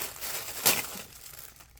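Tissue paper wrapping a Crafter's Companion Hello Fall craft kit crinkles as it is unwrapped, a soft close rustle with one sharper crackle midway, then fading.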